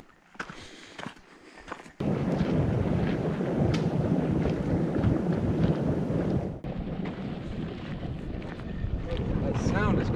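A Yellowstone hot spring bubbles and hisses beside a backcountry trail, a dense, steady, loud roar that surges in after a quieter start, with some wind buffeting the microphone.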